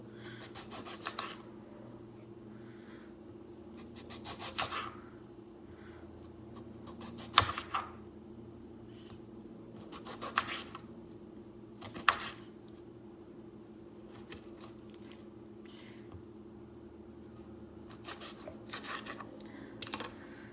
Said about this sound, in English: Then you cut up your limes.